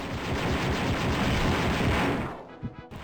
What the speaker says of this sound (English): I picked up the repeater rifle here and the shot of it killed me.